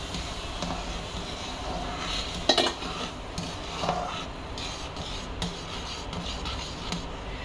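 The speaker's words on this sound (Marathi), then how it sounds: "गॅस बारीक केला की महा रवा घालून घ्यायचा आणि इकडून ढवळत राहायचं एका बाजूनी." A spoon scrapes and clinks against a pan as semolina is stirred into water for sheera, soft repeated scraping with a few light metallic taps under a low background hiss, with no talking.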